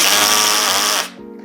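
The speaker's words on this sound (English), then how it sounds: "can also insert this number 8 wood screw into the stud without drilling a pilot hole" Cheap Harbor Freight DrillMaster cordless drill with a torque-limiting clutch drives a number 8 wood screw into a wooden stud with no pilot hole, a loud close motor whine that holds steady and then drops off abruptly near the end.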